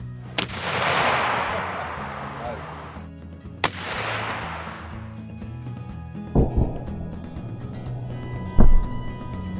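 Two loud rifle shots from an Arisaka Type 38 in 6.5x50mm ring out about three seconds apart, each with a long decaying echo, followed by a few duller thuds from a bullet striking an aluminum soda can outdoors.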